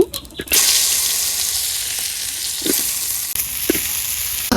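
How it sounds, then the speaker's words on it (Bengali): Bitter gourd slices fry in hot oil in a simple village kitchen, giving a loud, steady sizzle that begins suddenly and continues, broken now and then by soft stirring knocks. "এবার করলা বার্তার লাগি করলাগুলো ভাজিয়ে নিম"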